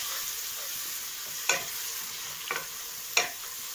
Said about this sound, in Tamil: வெங்காயம் வதங்கிடுச்சு, தக்காளி சேர்த்துக்கிறேன்.